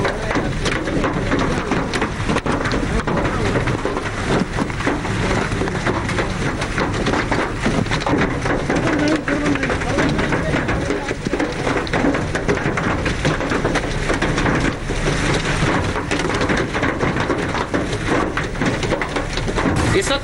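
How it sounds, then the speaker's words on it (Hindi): After a storm in Delhi, heavy rain and hail come down in a dense, constant roar that stays loud and close for about twenty seconds without a break. "सबसे पहले तेज़ आंधी आई, उसके बाद झमाझम बारिश हुई और अब ओले जो है वो गिर रहे हैं।"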